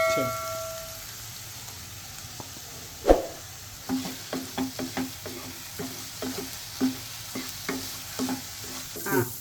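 Onion with a green chilli and coriander paste sautés in a pan, a soft sizzle under repeated sharp taps and scrapes of a spoon against the pan, starting quietly and settling into a steady rhythm.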